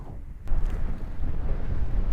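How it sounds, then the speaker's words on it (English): Strong wind buffets the microphone on a lake during trout fishing, a loud low rumbling roar that rises suddenly after a brief quieter moment and stays steady. "Oh man, it got really windy all of a sudden."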